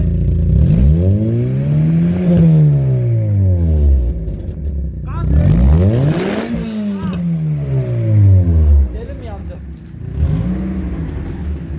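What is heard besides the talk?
car engine revving with a leaking exhaust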